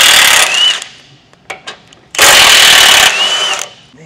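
Impact tool backing out 18mm lower bumper bolts on a Ford Bronco, two loud close rattling bursts of about a second each, separated by a pause with a few faint clicks.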